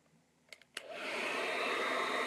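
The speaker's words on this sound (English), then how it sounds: "Take your hair dryer" A hair dryer switches on after a few clicks and blows steadily with a loud, constant whooshing roar.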